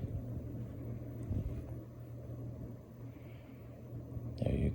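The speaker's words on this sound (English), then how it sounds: "Ceiling fan with the wood blades." An EOPETY ceiling fan with wood blades, running without a light on speed setting 5, gives off a steady, continuous low whoosh and hum of moving air. It sounds close and stays even throughout, with a brief brighter rustle near the end.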